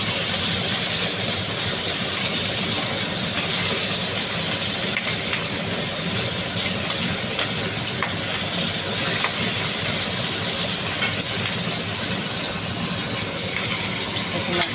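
Tangra fish frying in oil in a covered pan give a constant close sizzling hiss with scattered small pops and spatters.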